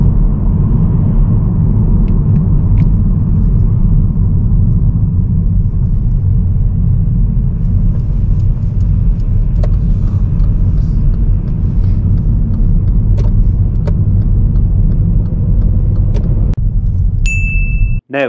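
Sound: car driving through a roundabout during a driving test

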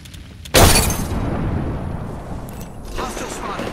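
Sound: frag grenade explosion, from a video game

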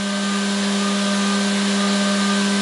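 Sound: CNC milling machine cutting with a quarter inch end mill

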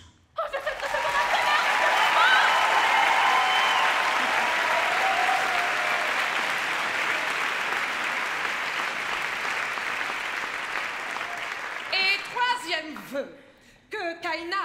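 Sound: audience applause at musical theatre awards ceremony

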